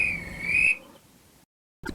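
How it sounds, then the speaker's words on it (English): A single shrill whistle blast sounds briefly, then fades into quiet, followed by a short silence and a brief noise. "Just then, the guard whistled."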